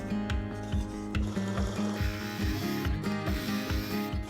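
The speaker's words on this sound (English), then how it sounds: "with a forcing bit, roughly the same width as the bar, I'm just going to rough out the hole that we've made" Forcing bit roughing out a hole in a wooden block, heard as a close, continuous grinding chatter with rapid regular ratcheting pulses throughout, loud and without talk.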